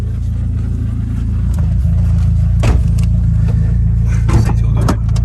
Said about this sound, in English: this is the sound of the single mass.